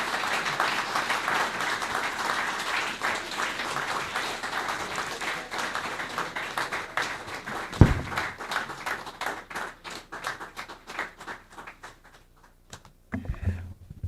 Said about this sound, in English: A round of applause for Mr. Bowman.